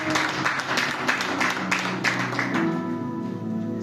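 A church congregation at Temple Gloire in Bingerville applauds, a brisk burst of hand claps over a sustained musical tone, tapering off after a couple of seconds.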